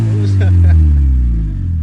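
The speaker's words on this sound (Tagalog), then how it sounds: "Putol yung muffler ng ayun, no?" A vehicle engine with a cut-off muffler idles in a loud, deep, steady rumble close by, its raw exhaust drone filling the clip while someone speaks over it.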